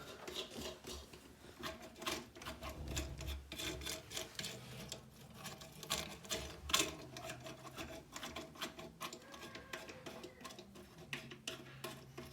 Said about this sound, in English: you just unscrew the nuts from the bottom, or you can unscrew it while holding it up